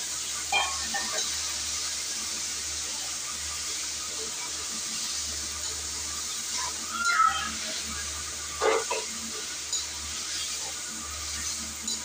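Chicken sizzles and fries in a pan on a home stove, a steady soft crackle with a few scattered stirring clinks and scrapes over it.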